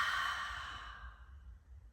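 A single long breath is released through an open mouth, a soft airy exhale that fades gradually to quiet.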